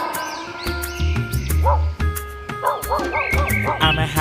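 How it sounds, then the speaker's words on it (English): A cartoon dog barks and yips in a children's phonics alphabet song, several short bright barks in a bouncy rhythm over loud backing music. "D for dog."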